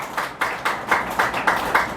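A church congregation claps loudly in a quick, even rhythm, about eight sharp claps in steady succession with no talk over them.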